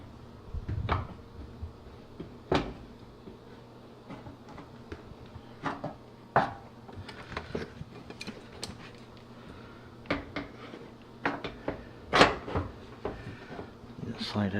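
A GE dryer's front door panel being fitted and slid into place during a gas-to-propane conversion, with scattered sharp clunks and light metallic knocks, close by, while someone talks through the work.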